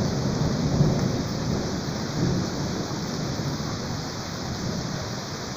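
Steady heavy rain on a fishing trip, a constant dense hiss of rainfall with low rumbling thunder underneath, continuous throughout with no talk.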